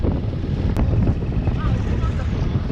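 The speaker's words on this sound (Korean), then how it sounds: "섬에 진입하자 바람이 거세져 다른 관광객들의 옷이 심하게 펄럭입니다." Strong wind blows across a small island near the sea linked by a bridge, buffeting the microphone in a loud, continuous gusty rush for a few seconds.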